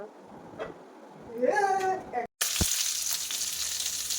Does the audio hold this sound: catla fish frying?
yes